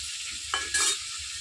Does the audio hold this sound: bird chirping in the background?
no